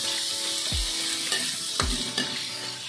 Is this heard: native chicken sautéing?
yes